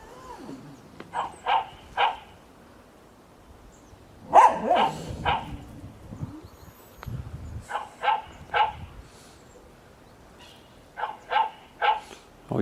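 A security camera's dog barking alarm: a dog barks repeatedly in short bursts and clusters, fairly close, with some whining between, over a quiet background.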